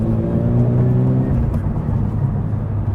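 A Toyota GR86 fitted with a non-stock aftermarket GR exhaust drives steadily, its loud engine drone and exhaust note holding a constant tone for a few seconds at close range with no talking.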